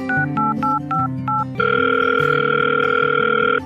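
A telephone call being placed: a quick series of short dialing beeps, then a sustained steady ringback tone carrying on for about two seconds before cutting off, with no voices.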